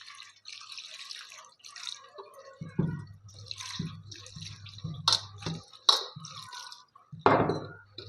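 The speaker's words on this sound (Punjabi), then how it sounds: "ਹੁਣ ਆਪਾਂ ਨਾਲ ਦੇ ਨਾਲ ਠੰਡਾ ਪਾਣੀ ਪਾ ਦਾਂਗੇ ਪਾਸਤੇ ਦੇ ਉੱਪਰ" Cold water is poured over freshly boiled pasta, heard as close, uneven splashes and dripping bursts with short pauses between, wet trickles falling into a strainer or pot.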